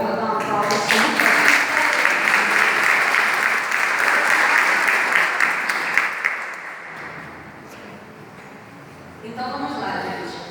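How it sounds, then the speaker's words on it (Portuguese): Church audience applauding loudly for several seconds with voices mixed in, then dropping away to near quiet before a brief smaller round of clapping returns at the end. "Vocês estão muito quietinhos, vamos aplaudir."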